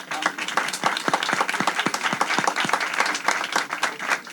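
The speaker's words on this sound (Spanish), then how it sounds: "voy a pedir un aplauso para Kevin, por favor" An audience at an education and innovation talk claps for a participant at a moderate level, with individual claps standing out distinctly in an uneven, fairly sparse patter.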